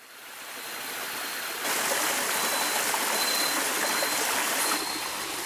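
A jungle creek in Malaysia flows steadily and close, a dense broadband rush of running water that swells slightly louder partway through and holds a constant level, with no voices.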